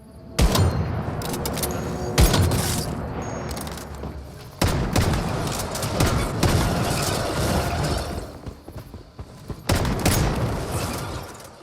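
Sniper rifle and shotgun gunfire in the game Once Human, as loud, close blasts that repeat at intervals and are broken by crashing, shattering impacts across a dense, continuous mix.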